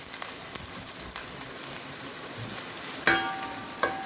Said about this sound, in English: I am taking wooden spatula to stir it.